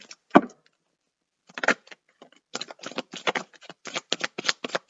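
Crisp riffling bursts of cards being shuffled, an isolated snap first, then a run of quick repeated shuffles close to the microphone.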